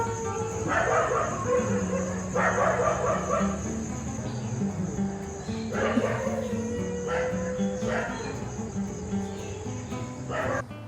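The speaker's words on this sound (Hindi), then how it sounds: "तो कुत्ते भौंक रहे हैं भाई रात को" Dogs bark in scattered bursts at a distance, over a steady shrill chorus of crickets in the night air.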